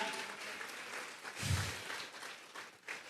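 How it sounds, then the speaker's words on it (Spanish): Church congregation at a Sunday service clapping as an offering of praise, a broad wash of applause from many hands with a brief low thump partway through. "Vamos a regalarle ofrenda de palmas al Dios de la gloria"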